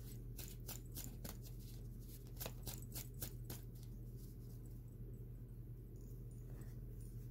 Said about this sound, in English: I'm going to shuffle two more times